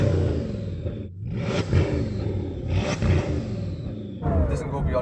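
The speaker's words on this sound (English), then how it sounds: "Go on, rev it then, let's hear the revs" A Bugatti Chiron hypercar in sports mode revs its engine in a few rising and falling surges, a deep close-up roar that seems held back by a soft limiter, with voices talking over it.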